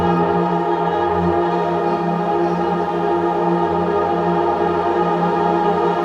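A held, droning instrumental tone bathed in a long, vast reverb, its tail stretching out wide and spacious, steady throughout with no talking.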